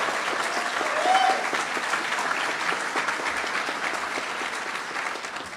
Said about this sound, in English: I'd just like to ask for a round of applause for that amazing anthem.